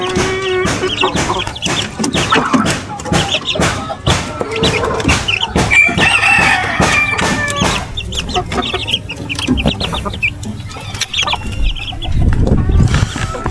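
Chickens cluck and squawk repeatedly close by in a busy, noisy mix, with people talking over them throughout.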